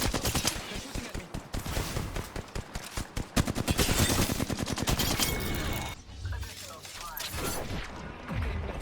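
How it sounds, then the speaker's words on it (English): Sustained automatic gunfire in the Apex Legends battle royale, loud rapid bursts of shots crackling continuously, then easing into a lower rumble of combat noise near the end. "They're shooting at me."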